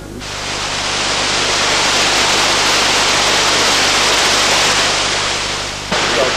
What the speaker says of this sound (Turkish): Yürüyüş sonunda konukları doğa harikası Güzeldere Şelalesi bekliyordu.